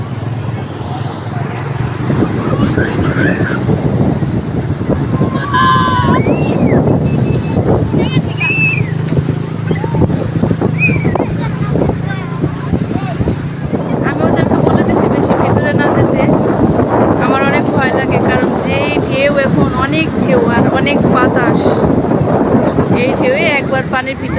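Sea waves break and wash up a beach in a steady, loud roar of surf and wind buffeting; people shout and talk over the churning water throughout.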